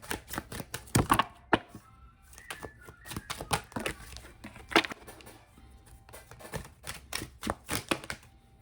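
Sharp, irregular clicks and riffling snaps of playing cards being shuffled, close up, in quick bursts with short pauses between.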